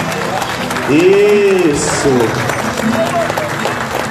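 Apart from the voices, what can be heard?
church congregation applauding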